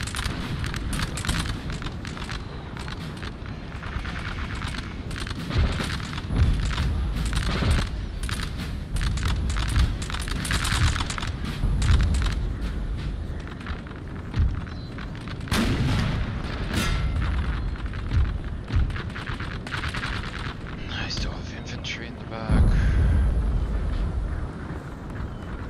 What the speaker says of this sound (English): let me stop my cannons from firing